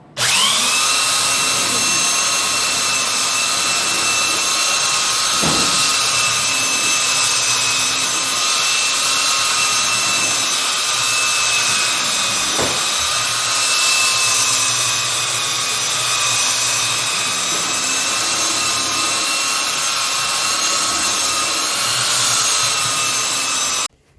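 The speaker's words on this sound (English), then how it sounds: "has a belt sander and he's making sure that this is level" A belt sander works a granite island countertop, levelling a slightly high spot: a loud, steady high-pitched whine runs unbroken throughout, with a few brief knocks as the tool is shifted.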